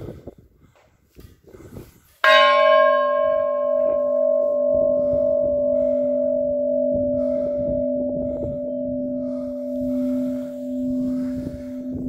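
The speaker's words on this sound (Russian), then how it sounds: "сейчас надо ударить в колокол и загадать желание" A church bell in the bell tower of the Annunciation Cathedral in Solvychegodsk is struck once, a loud close clang that rings on with a long, sustained humming decay after a few seconds of quiet outdoor background.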